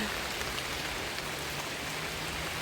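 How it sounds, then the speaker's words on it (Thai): Steady rain falls on a rural vegetable garden in northeast Thailand, a dense, even hiss of drops close by that continues unbroken with no voices. "ฝนตก"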